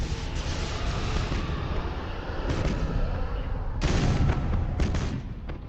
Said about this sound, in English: I think one of them's about to explode.